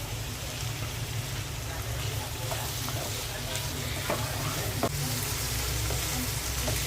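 Shrimp frying in a pan with salt, giving a steady loud sizzle with faint stirring clicks throughout.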